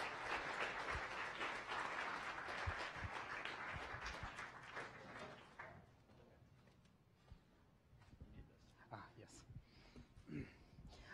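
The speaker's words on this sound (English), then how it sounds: "So, without further ado, give them a round of applause and welcome to the stage, Dr. Godwin and Dr. Delborn." Audience applause welcoming two speakers to the stage at a science cafe event in a museum, loud and dense at first, then thinning into scattered claps and murmuring over the last seconds.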